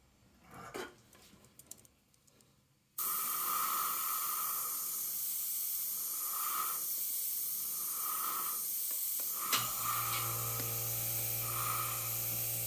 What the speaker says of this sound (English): That's a silent air compressor, 1 motor, 1/2 horsepower.